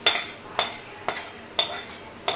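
A spoon rhythmically scraping a pan while tamarind pulp and tempering are stirred into cooked semolina for sojji pulihora: five short, crisp strokes about half a second apart, close and fairly loud.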